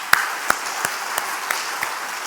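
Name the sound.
congregation applause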